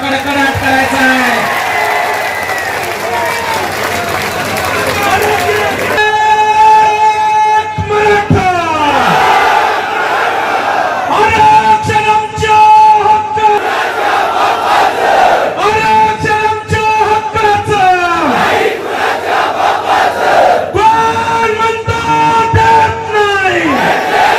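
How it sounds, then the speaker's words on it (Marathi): A large Maratha crowd at a community meeting shouts slogans in loud, rhythmic bursts. Massed voices chant together in repeated waves with short pauses between them, and there is some clapping and cheering. "यावेळी जोरदार घोषणाबाजी देण्यात आली"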